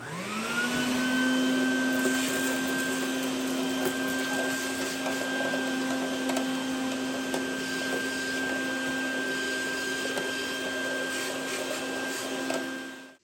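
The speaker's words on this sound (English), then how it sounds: "I'm going to get a vacuum on this real quick and suck all this junk out here first" A vacuum cleaner runs steadily and loudly, sucking debris out of a part on a crusty 1973 Kawasaki 175 motorcycle that sat since the mid-1980s, with a constant motor whine from start to finish.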